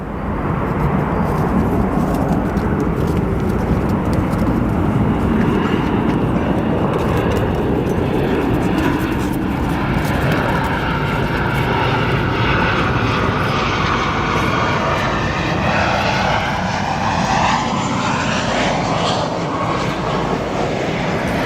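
A Boeing 737 arriving from Phoenix lands at O'Hare airport in a loud, sustained jet roar that holds close and strong throughout, with engine whine shifting in pitch as it touches down.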